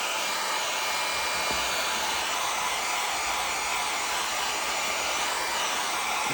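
A hair dryer blows steadily at close range to dry primer on an old book, a constant loud airy whoosh with no pauses and no talk.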